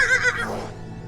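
A horse gives a short whinny in a supernatural drama scene, loud and close, falling in pitch and fading over about a second, with no talk over it.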